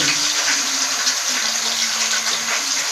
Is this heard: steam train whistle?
no